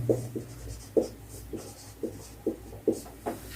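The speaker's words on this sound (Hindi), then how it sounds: "इसको हम सॉल्व करते हैं। बहुत ही आसान क्वेश्चन है, तो लिखते हैं।" A pen scratches out a trigonometry solution on paper in short, rhythmic strokes, about seven soft close scribbles with brief pauses, alone and quiet.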